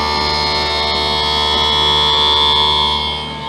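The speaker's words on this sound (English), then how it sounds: "That is the grinding of your lens against the wheel." A lens edger's wheel grinds a polycarbonate eyeglass lens with a loud, steady high-pitched whine that holds level for about three seconds and then eases off slightly at the end, with no voices.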